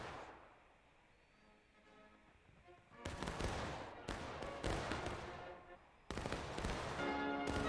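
Heavy volleys of gunfire in a Civil War video game battle erupt in sharp, loud bursts after a quieter opening, cutting off and restarting in several waves.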